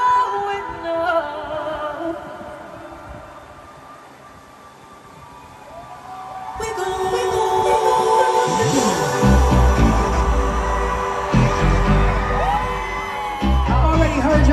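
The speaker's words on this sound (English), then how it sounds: "I already heard y'all screaming." A concert crowd at a tour show in Frankfurt screams and cheers, starting as a subdued murmur and swelling after a few seconds into a loud, sustained roar of yells and whoops.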